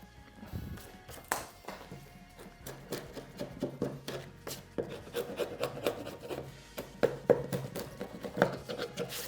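Hand chisel prying and scraping loose bits of wood from timber, a run of dry rasping scrapes and sharp taps in an irregular rhythm, close and moderately loud with no talk.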